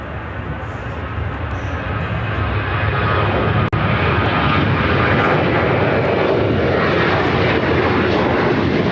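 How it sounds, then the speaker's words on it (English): CRJ200 LR regional jet departing Chicago O'Hare for Cedar Rapids, a loud continuous engine roar that swells a little midway and holds steady, close and unbroken. "5380 taking off to Cedar Rapids on the CRJ 200 LR"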